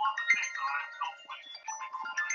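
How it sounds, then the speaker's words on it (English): A phone ringtone plays a bright, warbling melodic pattern in repeated bursts, moderately loud and close, with no talk over it. "I'm definitely not answering that phone"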